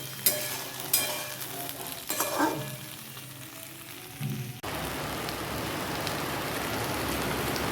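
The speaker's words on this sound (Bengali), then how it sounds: "বাইরে অজোর ধারায় বৃষ্টি" Heavy rain pouring down outside a home kitchen: a few clatters of cookware come first, then a dense, unbroken roar of rainfall fills the second half at even loudness.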